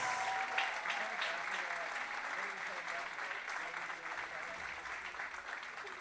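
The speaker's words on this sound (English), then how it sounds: "one more round of applause for Kaylee Nance" Crowd applause at a high school baseball game, Kahok versus Sacred Heart-Griffin, with sustained dense clapping from the stands, fairly distant and steady throughout.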